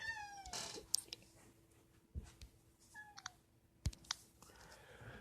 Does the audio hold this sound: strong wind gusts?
no